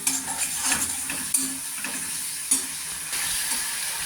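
Turmeric masala with a splash of water cooks in a pan for an egg curry, a close steady sizzle broken by a few sharp utensil knocks and scrapes from stirring, no speech.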